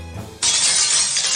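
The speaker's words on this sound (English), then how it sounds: "Our conversation was interrupted by the distressing sound of breaking glass farther inside the mansion." Glass shatters suddenly inside a mansion in London Detective Mysteria, a loud bright crash whose hissing spray of shards carries on evenly after a quiet low start, with no voices.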